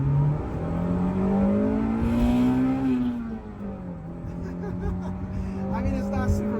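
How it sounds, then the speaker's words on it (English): An Acura Integra GS-R engine revs hard through VTEC in first gear, its tone climbing steadily to a peak, dipping, then holding a strong, even drone, loud and close throughout. "just listen to that engine. It is, especially once it gets up like through VTEC and it revs"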